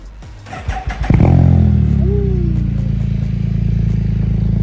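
A Can-Am off-road vehicle engine clatters through a few quick revs, then settles into a loud, steady, rumbling idle with a brief rising whine partway through.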